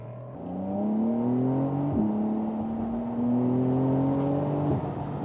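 A Porsche 911 engine pulls hard under acceleration, its rising tone climbing through gears with short breaks at each shift, loud and close from inside the car with no talking.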